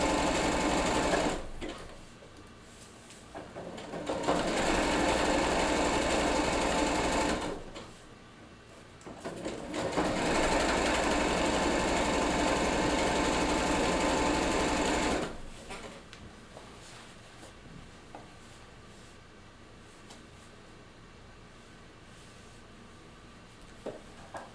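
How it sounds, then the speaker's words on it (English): A sewing machine stitches denim jean panels in two sustained, loud running bursts of several seconds each, separated by pauses, then falls quiet with faint handling noise and a little speech in the background. "sew one more of these panels"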